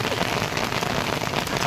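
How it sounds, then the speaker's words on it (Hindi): Heavy monsoon rain pouring outdoors in Shimla, a dense, constant hiss of drops pattering on surfaces and an umbrella, close and loud with no break. "देखो गाइस बहुत तेज बारिश हो रही है"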